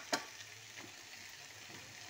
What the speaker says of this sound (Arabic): دوكا بعد ما تقلى الفلفل نضيفو البصل اللي نحطو يتقلى